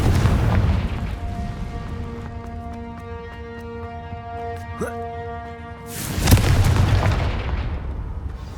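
Spell explosions from Confringo cast in the Hogwarts Legacy video game: a loud booming burst at the start, a sharp crack near the middle over a sustained musical drone, then another heavy blast and rumble near the end.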